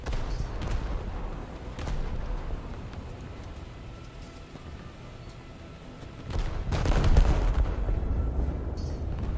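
The IJN Kongo battleship fires its heavy guns in a naval video game. Continuous low rumbling battle noise builds to a deep, booming salvo with a rolling roar near the end.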